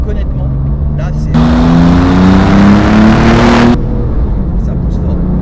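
A Porsche 997 GT2 accelerates hard from inside the cabin, its engine note rising in a loud, steadily climbing roar for a couple of seconds before easing off, with someone talking over it.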